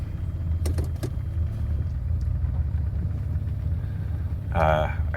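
The engine of a 1994 Saab 900 Turbo Convertible with an automatic gearbox, warmed up and running smoothly, giving a steady low rumble with a few clicks and a brief voice near the end.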